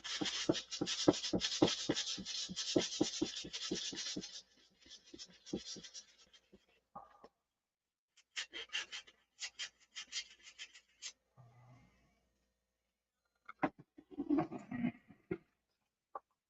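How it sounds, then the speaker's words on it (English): Sandpaper rubbing an imperfection on a resin gear, first a fast even run of strokes, then scattered short rubs and pauses, close and fairly soft. "I guess I could sand this too."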